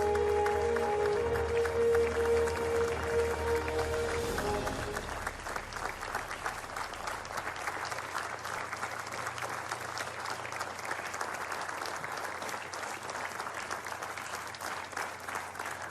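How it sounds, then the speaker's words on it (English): A crowd claps steadily as people walk down, a continuous patter of many hands that follows a few seconds of music-like tones and carries on to the end. "They're just walking down and everyone's clapping."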